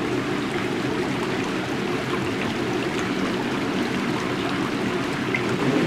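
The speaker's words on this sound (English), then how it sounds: "here we are fighting the noise of running water" A mill stream runs with a steady, full rushing of water, close and loud, unbroken throughout with no voices.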